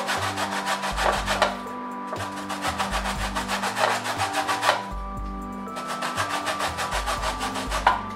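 An orange peel is scraped across a metal grater in steady back-and-forth strokes, a close, rhythmic raspy rubbing that repeats in bursts with short pauses between.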